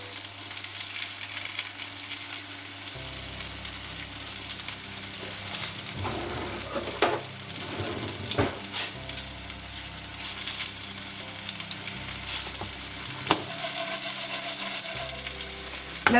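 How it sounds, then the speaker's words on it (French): Vegan bacon strips made by the water-starch method frying in a hot pan, a steady close crackling sizzle running throughout with occasional sharper pops and spatters, no voices. "Une fois que votre poêle est bien chaude, vous allez commencer à faire griller vos stripes"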